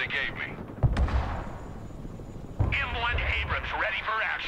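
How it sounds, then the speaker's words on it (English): Anti-air gunfire in the video game Broken Arrow, heavy booming shots and rumbling blasts at a middle distance, partly mixed with radio chatter and voices talking over the battle. "They've got some sort of anti-air in this sort of area that's firing across."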